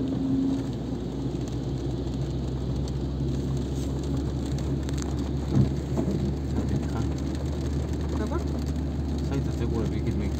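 Heavy rain falls on a city street with passing car traffic, a constant dense hiss and low rumble of vehicles throughout, and a faint voice speaking under it.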